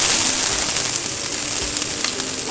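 Green chilies fry in hot oil on a tava, giving a loud, close, continuous hiss and sizzle that stays steady throughout with no talking.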